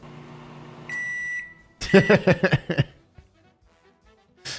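A microwave oven hums steadily, then a run of sharp electronic beeps sounds close by, followed by quiet.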